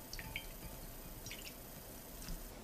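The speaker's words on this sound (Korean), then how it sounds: "현미식초 3컵에 소주 1컵을 부어서 섞어주세요" Brown rice vinegar and soju poured into a container of cucumbers for pickles, a soft close trickle with scattered drips and splashes over a steady hiss, quiet and without talk.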